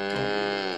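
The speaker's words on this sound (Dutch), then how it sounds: "Kijk, dit is een koe." A cow lowing on a farm in a children's cartoon: one short, steady moo held close and fairly loud, with no voices over it.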